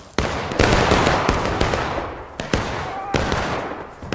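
Rifles fire a volley in the Ghosts of Antietam video game, a loud close burst of overlapping cracks with several further shots following at irregular intervals, each trailing into rumbling decay.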